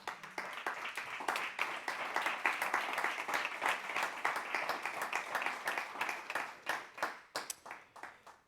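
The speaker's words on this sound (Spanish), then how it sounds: "Denle un aplauso al Señor." A church congregation applauds in a steady, sustained burst of many hands clapping together, which thins into scattered claps near the end.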